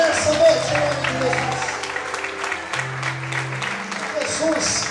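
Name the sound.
congregation applauding in church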